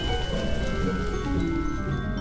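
Steady rain falling outdoors, a dense, continuous hiss of drops on surfaces, loud and close with no breaks.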